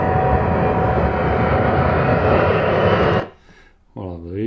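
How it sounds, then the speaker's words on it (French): Recorded sound effect of an Airbus A380 landing: a loud, dense jet engine roar held steady for about three seconds, then cut off abruptly, followed by someone speaking. "c'est un bruit d'Airbus qui atterrit"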